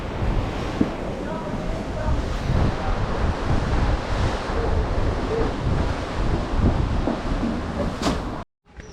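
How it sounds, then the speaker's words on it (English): Ocean surf and a morning sea breeze at an open-air restaurant in Bohol, Philippines: a steady, loud wash of waves with wind buffeting the microphone, continuous for about eight seconds before a brief dropout near the end. "The breeze here is really nice. It's like a nice morning breeze from the ocean."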